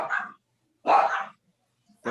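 A small dog gives two or three short, sharp yaps spaced apart, fairly close and clear against silence between barks.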